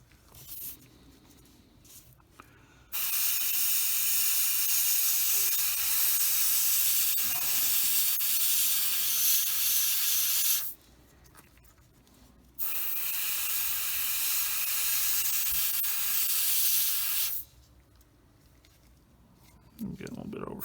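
Primer and paint hiss from a spray can onto model tracks in two long, steady bursts of several seconds each, close and loud, with quiet gaps between them.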